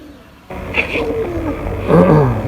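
Soft, low pigeon coos rise out of a steady background hum, with a fuller throaty coo near the end.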